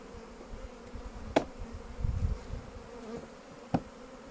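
Honeybees buzz steadily around an open hive, with occasional louder close passes and a couple of sharp clicks. No one speaks.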